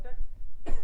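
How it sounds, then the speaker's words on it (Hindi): A single close cough from a man, a sharp harsh burst near the end of a short pause in his steady lecture-style talk. "सॉरी फ्रेंड्स, खांसी आ रही है।"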